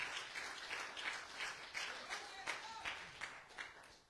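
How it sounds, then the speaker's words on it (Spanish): A church congregation applauds steadily throughout, dense clapping filling the space at a fairly even level with no clear break. "Denle una ofrenda de palmas al Rey con todo su corazón."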